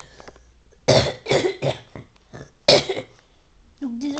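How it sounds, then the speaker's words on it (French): A person coughs close to the microphone in a few harsh bursts, followed by a short throat-clearing grunt at the end. "désolé si vous m'entendez tousser"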